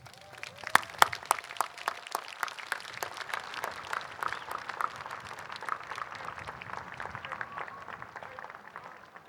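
A crowd lining the street at the Torrance Armed Forces Day Parade applauds, producing dense, steady clapping with a few sharp nearby claps that carries on for the whole stretch, with faint voices mixed in.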